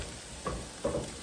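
Minced button mushrooms hitting a pan with shrimp, a soft steady sizzle broken by three short louder bursts as the pieces stir and spit.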